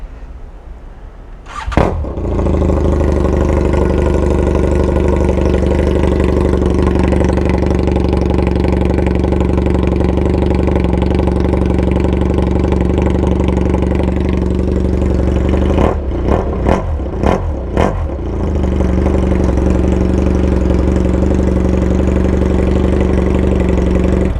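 BMW F800GSA motorcycle with its muffler removed, starting with a sharp burst and then running loud and close at a steady raw idle, with a few quick throttle blips near the end.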